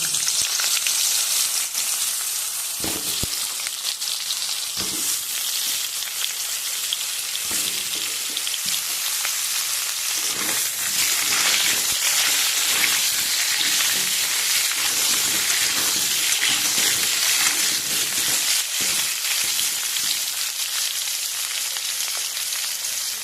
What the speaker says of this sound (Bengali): ভেজে নেওয়া একই তেলেতে আমি আলুগুলো এবার ভেজে নেব।